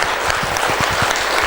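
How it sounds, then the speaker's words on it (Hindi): An audience at a conference applauds, steady dense clapping filling the whole brief moment. "एक बार जोरदार तालियां आप लोगों के लिए"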